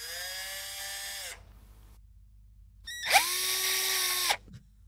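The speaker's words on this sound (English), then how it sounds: "it's just a drill. Check this out." A high-pitched orthopaedic surgical bone drill whines close by in two bursts, spinning up steadily, with a short quiet pause between them.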